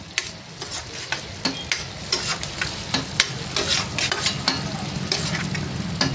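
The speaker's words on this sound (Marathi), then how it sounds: "आता हे पण परतून घ्यायचं आहे याच्यामध्ये तेलामध्ये" Vegetables sautéing in oil for bamboo biryani, a steady close sizzle broken by rhythmic spatula scrapes and clicks against the pan, about two strokes a second, no talking.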